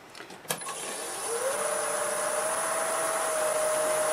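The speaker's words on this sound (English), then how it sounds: "I use a 1/2 inch bowl gouge around 800 RPMs to remove most everything." Wood lathe spinning an English walnut bowl blank worked with a half-inch bowl gouge, a sharp click and then a steady whirring drone with a high whine as the machine runs up to speed, no talking.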